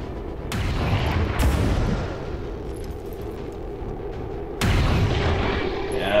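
Loud bursts of gunfire and booming weapon fire in the strategy video game XCOM 2, with heavy blasts near the start and again later over a dense, rumbling battle soundscape.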